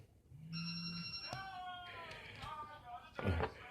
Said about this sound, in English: I got a text message in the background